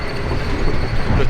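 Interior of the KA Argo Bromo Anggrek, a stainless steel executive train on the Surabaya–Jakarta route, heard as a steady low rumble of running wheels and carriage noise, loud and continuous.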